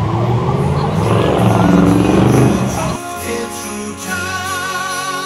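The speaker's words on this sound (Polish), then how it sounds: "Nie, to karetka." Ambulance siren passing close by at a Christmas market in Szczecin, loud and wailing with a steady rising and falling tone that shifts in pitch partway through as it goes by.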